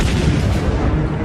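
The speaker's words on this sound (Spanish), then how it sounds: "Nos tanteaban con disparos de artillería." Wartime artillery fire, a dense, continuous rumble of booming shots close together, loud and unbroken throughout.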